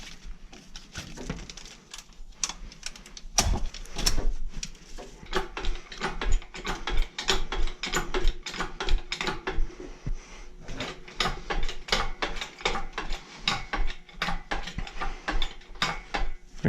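Ratchet strap on a motor being released during work on a 1965 Toyota Tiara, a string of sharp metallic clicks and clacks of varying loudness, with clanks of parts in a cluttered garage.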